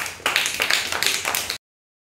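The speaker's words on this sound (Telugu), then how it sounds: "క్లాప్స్ కొట్టండి" Young children clap together at an Anganwadi preschool during a counting activity, a burst of fast, loose, uneven claps lasting over a second before stopping abruptly into silence.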